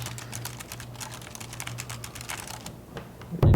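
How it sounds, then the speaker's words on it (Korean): Soft, rapid typing on an LG X-Touch K101 low-profile pantograph scissor-switch keyboard, a steady patter of quiet clicks throughout, ending in a brief louder bump. "조용하진 않는데요. 기계식 키보드보다 훨씬 더 조용하기는 해요."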